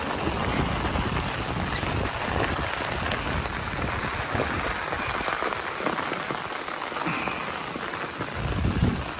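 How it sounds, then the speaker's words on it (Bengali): Rain pours down steadily with wind, a dense, even hiss of drops striking surfaces that swells slightly in gusts. No one speaks. "বৃষ্টির সাথে বাতাসও হচ্ছে"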